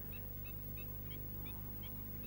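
Migrant ducks call from a wetland in winter, with a series of short, faint honking notes repeating at a steady pace over a low, constant rumble of wind and water.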